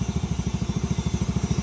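A Yamaha Mio Soul i 115 scooter engine with loose wiring and a misfire runs steadily close by, giving a rapid, even, throbbing putter with regular pulses and no talk.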